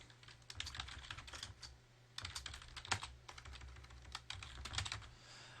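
Quiet computer keyboard typing, bursts of rapid key clicks separated by short pauses, close but faint and without speech.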